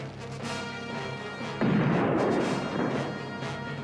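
Cannon fire from a pirate ship's battle in a TV adventure series: a heavy blast bursts in partway through and rumbles on loudly beneath a busy, continuous soundtrack, with no voices.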